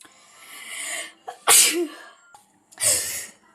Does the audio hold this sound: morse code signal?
no